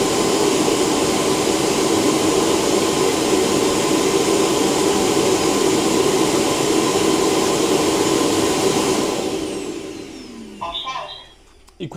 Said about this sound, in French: Et il commence directement à aspirer les saletés.